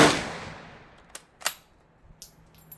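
A single loud crack of a Mauser rifle firing a 200 grain bullet at an outdoor range, followed by a fading echo and a few faint clicks.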